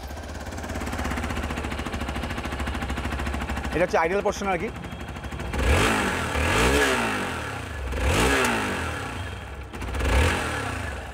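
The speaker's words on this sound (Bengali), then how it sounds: "তোমাদেরকে আমি এক্সস্ট সাউন্ডটা শোনাবো একবার" A Hero XPulse 200 4V motorcycle engine fires up and idles nearby, its exhaust thumping and swelling in several throttle blips with a bassy note, while someone speaks over the running bike.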